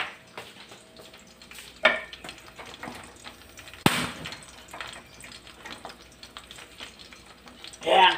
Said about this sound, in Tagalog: Kumukulo na si ating bangus.